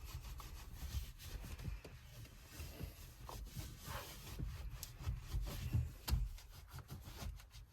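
A cloth wiping a Mercedes-Benz steering wheel gives soft, irregular rubbing and brushing strokes, close and faint, with a few small bumps.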